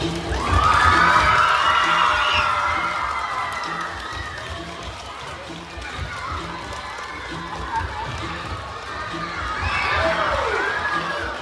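A crowd of children at an elementary school cheering and shouting loudly, with excited voices rising in waves and a second surge near the end.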